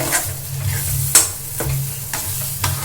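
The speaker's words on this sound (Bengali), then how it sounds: "ডালটাকে কিন্তু সুন্দর করে তেলের সঙ্গে নেড়ে নেব আমরা" Chana dal is stirred in hot oil, a continuous close sizzle crossed by repeated scraping strokes of a spatula against the pan at a steady rhythm.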